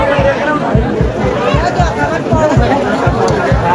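A large crowd of pilgrims queues at Tungnath temple as rain begins. Dense, close chatter and crowd murmur fill the whole stretch, with steady low thumps underneath.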